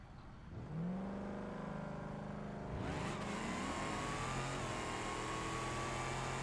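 A dragster engine in BeamNG.Drive revs with a rising whine, then roars harder at the launch into a sustained loud, high-pitched scream that holds steady to the end.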